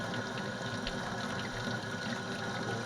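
Water poured into a filter to rinse sulfur through during a home chemistry preparation, a soft continuous splashing and trickling flow at low level, with no voices.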